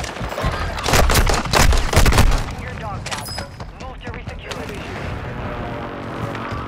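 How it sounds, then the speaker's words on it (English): An airstrike hits in a multiplayer video game, a dense burst of booming blasts and crackling fire in the first seconds that fades into a rumbling wash of battle noise. "Airstrike."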